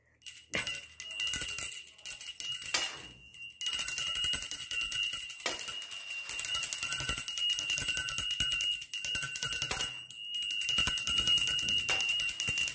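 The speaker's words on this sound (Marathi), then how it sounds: "घंटी कंटिन्यू दुसऱ्या हाताने तुम्हाला वाजवत राहायची" A small hand bell rings continuously in rapid, tinkling bursts during a one-minute kitty-party party game. It is close and bright, with brief pauses where the ringing stops before resuming.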